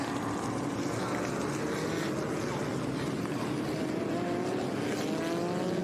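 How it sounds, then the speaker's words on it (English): Early-1960s sports racing cars at full speed at Laguna Seca, a dense continuous roar of several engines that rises and falls without a break. "These sports racers, really the cutting edge at the time in the early 60s"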